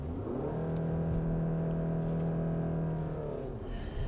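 Volkswagen Passat Alltrack 2.0 TDI 4MOTION straining off-road, a steady loud engine drone with a held tone as the wheels scrabble for grip, easing off near the end.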